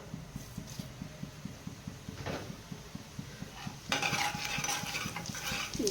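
Cumin seeds dropped into hot oil or desi ghee in a pot for a green chilli and onion dish, with a rapid regular ticking at first, then a louder burst of crackling sizzle partway through.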